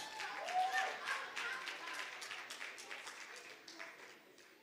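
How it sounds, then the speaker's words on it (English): A crowd claps steadily for several seconds at a Sunday school sword drill competition, fairly loud and continuous, fading slightly toward the end. "Can we give him a round of applause?"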